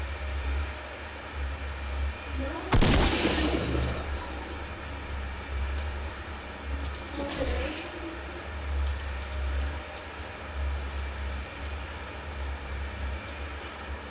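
A single sharp gunshot cracks loudly in a Fortnite match, followed a few seconds later by a softer second report, over a steady low rumbling game ambience.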